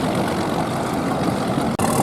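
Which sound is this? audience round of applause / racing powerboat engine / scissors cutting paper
racing powerboat engine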